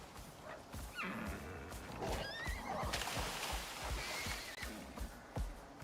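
Horse whinnying in the video game Icarus, several shrill neighs rising over steady clip-clop hoofbeats and scuffling, fairly close and continuous, with faint dog barks mixed in.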